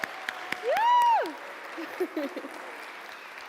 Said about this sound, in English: Could we give them another clap?